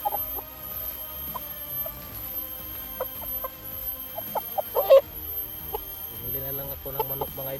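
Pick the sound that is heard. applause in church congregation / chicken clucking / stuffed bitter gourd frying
chicken clucking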